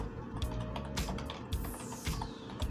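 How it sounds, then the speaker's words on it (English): Several quick keystrokes clack on a computer keyboard in short irregular bursts, close and fairly quiet, with no talking. "I'm going to type in disk management"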